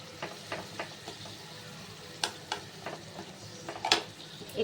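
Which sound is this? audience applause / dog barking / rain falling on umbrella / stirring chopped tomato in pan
stirring chopped tomato in pan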